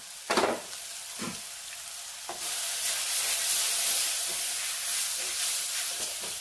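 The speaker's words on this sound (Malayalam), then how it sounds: "ഈ തക്കാളിപ്പഴം ഒന്ന് വെന്തുടയാനായിട്ട് നമുക്ക് അല്പസമയം ഇതൊന്ന് ചെറുതീയിൽ മൂടി വെക്കാം." Tomatoes cook down in a pan on low heat for Christmas fish moppas, and the pan is being covered. A few sharp scrapes and knocks come first, then a steady sizzling hiss with faint stirring taps.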